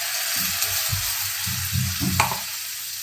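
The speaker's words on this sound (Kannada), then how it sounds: "ಆಯಿಲ್ ಹಾಕಿದ್ದೀನಿ ಇವಾಗ ರುಬ್ಬಿರೋ ಅಂತ ಟೊಮೆಟೊ ಹಾಕ್ತಿದ್ದಾನೆ" Ground tomato sizzles and crackles in hot oil for palak paneer, a close, steady frying hiss with soft bubbling pops and a few stirring scrapes.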